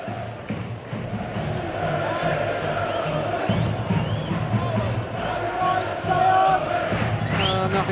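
The Portsmouth home crowd roars through an FA Cup quarter-final football match against Arsenal, a sustained wash of distant crowd noise and cheering with a commentator talking over it.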